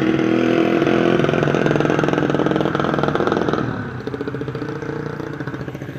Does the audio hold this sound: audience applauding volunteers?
no